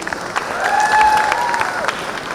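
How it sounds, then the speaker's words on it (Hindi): A crowd at a business conclave festival gathering claps loudly and continuously, dense applause swelling in the middle with a faint whistling tone over it, no voices. "पर अभी ताकत तो दिखाइए तालियों में।"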